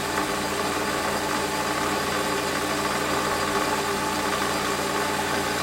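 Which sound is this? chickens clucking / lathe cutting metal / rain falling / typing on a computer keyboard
lathe cutting metal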